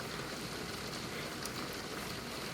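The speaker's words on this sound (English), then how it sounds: "The pitter-patter of pouring torrential rains." Water cascades steadily from a patio waterfall with a dense, rain-like hiss, loud and continuous with no pauses and nothing else audible.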